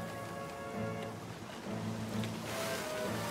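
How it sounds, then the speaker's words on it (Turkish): Big ocean waves surge and wash in a steady, loud roar of surf with no voices. "Dalgalar kocaman olmaya başladı."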